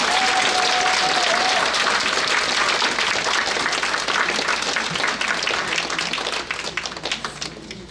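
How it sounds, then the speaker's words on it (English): An audience at a Lunar New Year celebration in Nassau County bursts into sustained, dense applause that holds steady and then tapers off toward the end. "Let's give him a round of applause."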